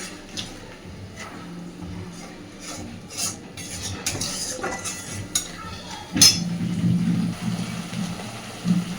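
A spoon stirs sour yogurt into a vegetarian curry in a metal pot, giving intermittent scraping rubs and light clinks against the pot, close and quiet, with a louder knock near the end followed by a low simmering murmur.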